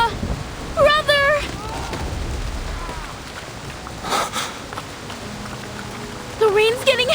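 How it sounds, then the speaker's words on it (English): Heavy rain in the video game Reverse: 1999 gives a steady, washing hiss underneath urgent, raised voices that break in several times. "The rain's getting heavier!"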